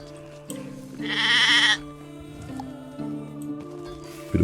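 Sheep bleat in a sheepfold in Medieval Dynasty, with one loud, close bleat standing out among lower, droning animal calls and soft farmyard noises.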